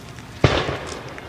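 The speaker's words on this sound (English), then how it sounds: "We're lighting off fireworks." A single sharp firework bang goes off outdoors on the eve of the 4th of July, a sudden loud pop that crackles briefly and fades into background noise.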